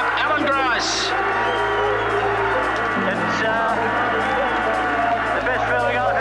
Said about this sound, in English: Crowd absolutely berserk